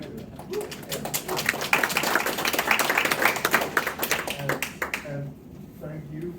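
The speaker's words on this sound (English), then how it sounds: "loud cheer clap for Jeff" A live in-person audience at a meetup breaks into clapping and cheering, a dense burst building for a few seconds and then fading as a voice speaks over the tail end.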